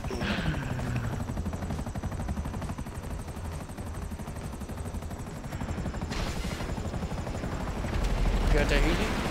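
Helicopter in the video game GTA 5 Online, a steady rotor thrum running throughout and swelling louder near the end, with bursts of gunfire mixed in.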